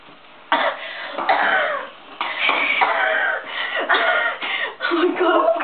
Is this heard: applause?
no